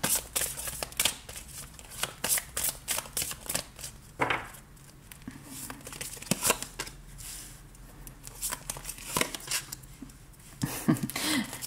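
Tarot cards shuffled by hand in quick, repeated riffling bursts, close and crisp, with short pauses between handfuls and a few soft taps of the deck.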